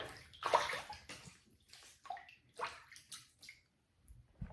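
Water splashes and sloshes in bursts as hands wet the face before a double-edged safety razor shave with a Rockwell 6S, close and fairly quiet, with brief pauses between splashes.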